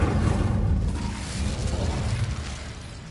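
Incendio fire spell cast in the video game Hogwarts Legacy, a loud burst of whooshing flame and rumble that erupts at once and then roars on as a broad, sustained blaze.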